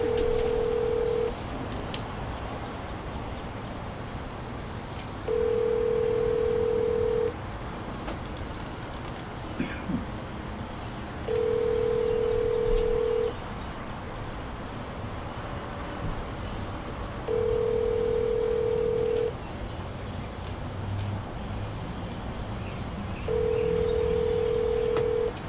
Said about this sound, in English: Let me call the one and only Edwin Painter